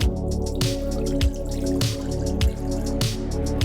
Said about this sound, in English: add 1 cup of water to your Instant Pot